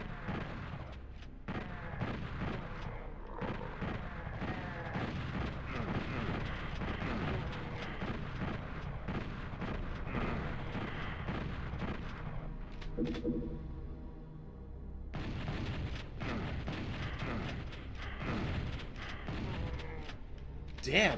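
Rapid enemy gunfire and explosions in the PlayStation version of Doom, PsyDoom port with Doom 2 enemies in the Doom 1 campaign, dense and loud throughout over game music, briefly thinning before the firing resumes.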